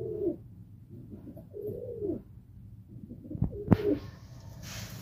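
A pet pigeon coos in its coop: soft, low throaty calls repeated a few times at close range, followed by a sharp knock and some rustling.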